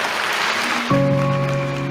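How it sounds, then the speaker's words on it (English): Applause on a played rock recording: a wash of crowd clapping for about a second, then cut off abruptly by sustained musical tones that carry on to the end. "Where does the applause come from?"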